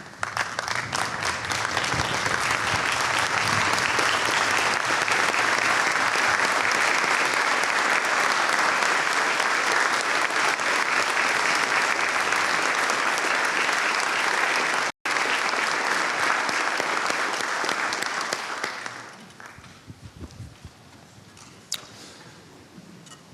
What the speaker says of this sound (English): please stand and give them a round of applause